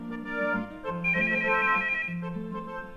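A telephone rings steadily and loudly in an indoor room, as a continuous electronic tone pattern with shifting pitches and no pauses.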